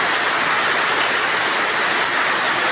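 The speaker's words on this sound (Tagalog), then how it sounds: "Nahulog ang ulan." Steady rain pours down on an afternoon in Kidapawan, a dense, even hiss with no breaks, loud and close throughout, like water streaming onto surfaces.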